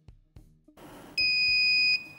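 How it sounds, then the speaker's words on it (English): A wireless indoor/outdoor beam detector alarm goes off with a loud, continuous electronic beep after a few soft knocks and clicks, holding a steady piercing tone for nearly a second before it cuts off. "the alarm will be activated"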